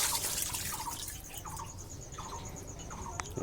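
Water from a turtle aquarium trickles and drips during a water change, with a steady wash of running water and a few small, bright drip sounds on top.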